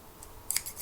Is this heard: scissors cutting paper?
yes